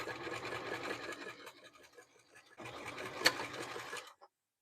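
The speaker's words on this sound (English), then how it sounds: "You're going to stitch across the flap and then this single layer of fabric, and then continue stitching across the other flap." A sewing machine fitted with a zipper foot stitching across layers of fabric, a steady close mechanical whir that pauses briefly, resumes, then stops.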